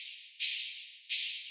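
Shaker layered with white noise in an FL Studio dubstep loop: two bright, hissy bursts, each fading out before the next, alone and fairly loud.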